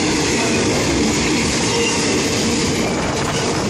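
A freight train passes close by, a loud, steady rumble of rolling railcars with clattering wheels that holds at full strength for the whole stretch, with no voices.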